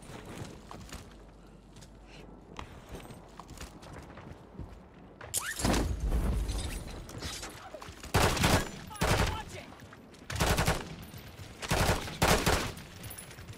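Warzone gunfire comes in bursts of rapid automatic shots. After a quieter opening they arrive in loud clusters, close and repeated, with gaps between them and faint voices underneath.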